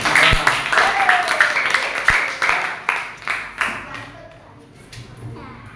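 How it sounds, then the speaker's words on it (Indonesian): A small group in a classroom claps for a presenting student group, with scattered hand claps that thin out and slow, mixed with chatter in the room. "Kasih tepuk tangan dulu dong."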